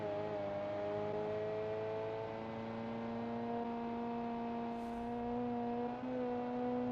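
Dodge Challenger muscle car engine in BeamNG, a steady loud drone with sustained harmonics that rise slowly as it revs, running alone without talk.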